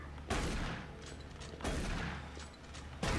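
Gunfire in the Doom 3 video game, three loud bursts of shots roughly a second and a half apart, each decaying into a rumbling tail, with no talk over them.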